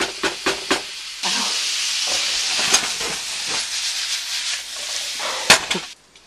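Bacon grease sizzling and crackling in a frying pan, a steady close hiss with scattered sharp pops, starting after a few soft knocks and cutting off near the end.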